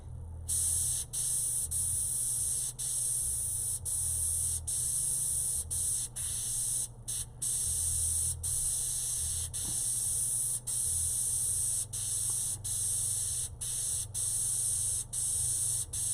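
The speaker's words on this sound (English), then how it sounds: "I am spraying a candy, but it's mixed super thin" An airbrush hisses in a steady, close spray of thinly mixed candy paint, broken by brief regular gaps as the trigger is released and pressed again.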